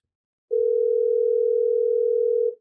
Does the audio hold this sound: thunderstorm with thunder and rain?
no